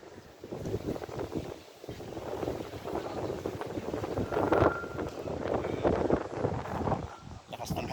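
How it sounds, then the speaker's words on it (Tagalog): Strong wind buffets the microphone on a lone hilltop at Marzahn, Hellersdorf in Berlin, a steady loud rushing roar with gusts that swell and dip throughout. "Lakas ng hangin guys."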